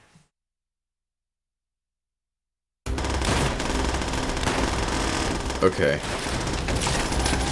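An MG42 machine gun in Call of Duty: World at War fires in a sustained loud rattling stream after a few seconds of silence, with a brief spoken word near the start.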